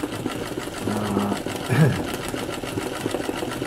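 Sewing machine stitching foliage for landscape embroidery, a steady fast mechanical whir and clatter under a faint voice.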